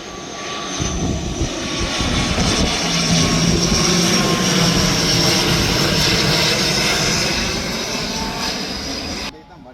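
A fixed-wing airplane roars loudly overhead, its engine noise swelling and holding for several seconds before fading, with voices of a crowd underneath.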